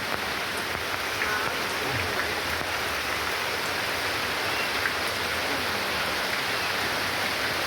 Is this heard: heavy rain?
yes